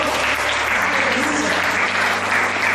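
Congregation applauding inside a church, a steady, dense wash of clapping from many hands that fills the whole stretch at a constant level.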